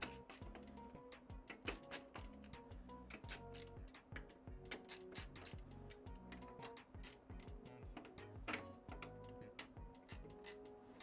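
Screws being tightened on PC case fans, a quiet series of close ticking, clicking ratchet-like mechanical sounds in an irregular rhythm.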